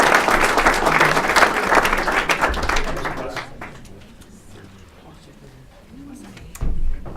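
A room of listeners at a speaker series applauds loudly for about three seconds, dense clapping that then thins out and fades while a voice talks.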